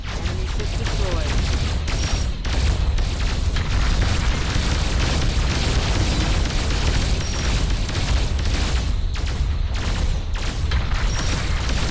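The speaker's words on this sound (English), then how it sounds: "Enemy ship destroyed." Rumbling booms and bursts of an enemy ship blowing up in the naval battle game Dreadnoughts, a dense, loud, continuous roar of explosions with a voice speaking over it.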